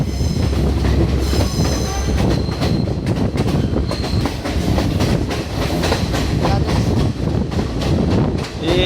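A passenger train on the Badulla line pulls into Haliela railway station in Sri Lanka, loud and close, wheels squealing and rattling over joints with wind buffeting the microphone throughout.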